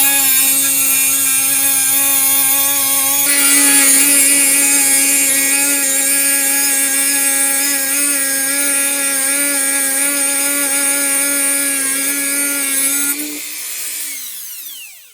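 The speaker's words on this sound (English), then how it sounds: "now we got to cut these off here with my Dremel tool, my cutting wheel" A Dremel rotary tool with a cutting wheel grinds through metal pins on a broken vintage knife, a loud, steady high-pitched whine running about thirteen seconds before spinning down and trailing off.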